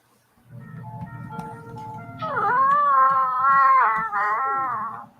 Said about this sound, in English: That's a cat, apparently.